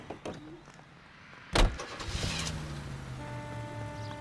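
A car in the video game L.A. Noire: a sharp door slam, then the engine starting and idling with a steady hum under background music, close and fairly quiet.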